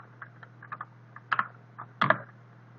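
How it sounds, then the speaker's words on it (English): Quiet keystrokes on a computer keyboard in an Ubuntu terminal, arriving in small irregular clusters with a few firmer taps near the end over a steady low hum. "And then I type import."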